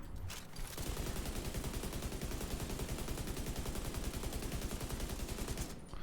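Rapid sustained automatic fire from the MK long range assault rifle in The Division 2, a dense, loud, even stream of shots lasting several seconds with a brief pause at the start, no voices.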